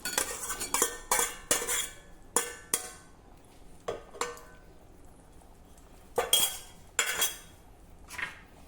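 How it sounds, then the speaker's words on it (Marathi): Potato pieces go into a Maharashtrian potato rassa curry in a pan, with repeated metallic clinks and scrapes of a spoon against the pan in irregular bursts, close and fairly loud with quieter stirring between. "आता यामध्ये उरलेला बटाटा घालूया."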